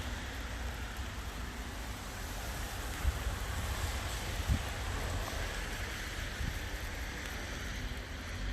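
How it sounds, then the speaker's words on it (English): Steady rain drums on the bodywork of a Mercedes E55 with a graphene coating, a dense continuous hiss with a few soft thumps of heavier drops, close and uninterrupted, with no voices. "let's get out of this rain because I am starting to get drenched"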